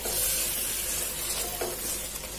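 Chicken tikka pieces roast in spiced masala in a hot pan, giving a loud, continuous close-up sizzle with occasional scraping stirs and no voices.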